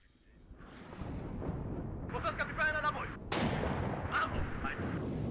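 Counter-battery artillery in WARNO fires in a series of distant, rumbling booms that build and overlap. Someone talks over part of it.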